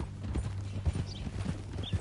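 Horse hooves clip-clop in Red Dead Redemption 2, a steady close rhythm of thuds with a few sharper heavier strikes, heard alone without talk.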